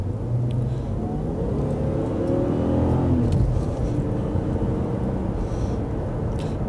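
A supercharged Jaguar XJR in sport mode pulls hard under full throttle, its engine a steady, loud rumbling roar that climbs in pitch as it accelerates, heard from inside the cabin with continuous road noise.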